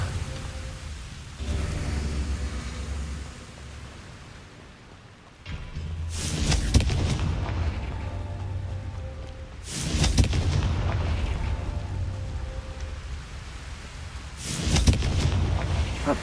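Fiery blast spell effects from the game Hogwarts Legacy: three loud booming bursts spaced a few seconds apart, each a broad crackling roar over a low rumbling game soundscape, with no talk.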